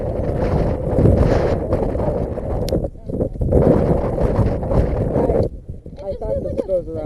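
Strong gusts of wind buffet the microphone at an outdoor airsoft close-quarters game, roaring in two long loud bursts with a brief lull between, while people talk nearby.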